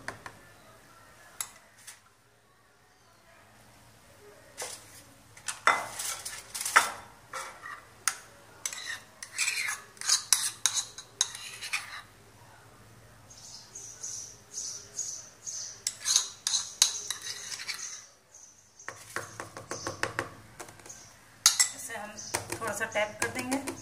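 A spoon stirs mango ice cream mixture in a dish, producing irregular clinks, taps and scrapes against the bowl, close and fairly quiet, with brief pauses between bursts.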